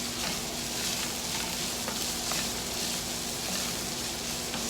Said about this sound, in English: Your corn's actually roasting, not roasting, but frying up a little bit.